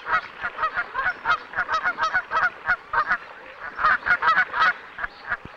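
Loud, repeated honking of Canada geese, several birds calling in quick overlapping bursts close by at a lake.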